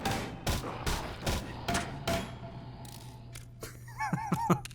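Gunfire in the game Underhell, a quick run of five or six loud separate shots with short echoing tails, then quieter scattered sounds and a couple of close final bursts.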